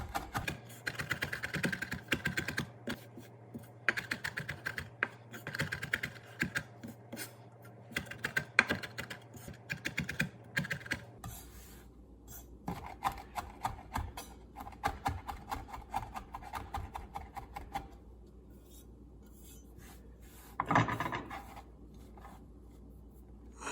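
A knife finely chops fresh rosemary on a cutting board, producing a close, steady run of quick, crisp taps and scraping strokes that pause briefly and then resume less densely.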